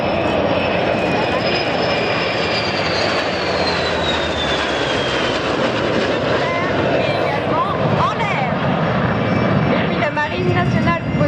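French navy jet aircraft fly past at the Air Legend 2021 airshow, a loud, sustained roar with a slowly falling whine as they pass, while an announcer talks over a public address.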